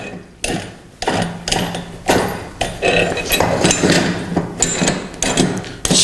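Metal clanks and ratcheting knocks as a pin is pulled and a steel rim clamp is dropped to a lower setting on an industrial drum rotator and stacker, loud and close, in a run of irregular hits.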